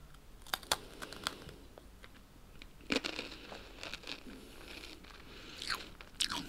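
Crunchy Takis rolled corn chips being bitten and chewed up close, quiet irregular crisp crunches with sharp snaps scattered over several seconds against a hushed background.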